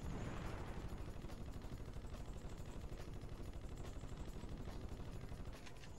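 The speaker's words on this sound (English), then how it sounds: "the machine gun's pretty reliable" Rapid, steady machine gun fire from the video game Ratchet & Clank (2002), an evenly pulsing burst of shots running continuously for about six seconds over a busy game-effects background.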